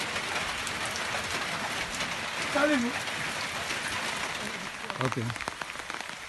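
Steady rain falls outdoors on a permaculture plot, a dense continuous patter throughout, with brief voices speaking briefly in the background.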